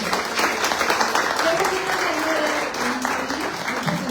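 An audience claps steadily and warmly for several seconds at a book presentation in Mexico City, a dense wash of applause with faint voices mixed in.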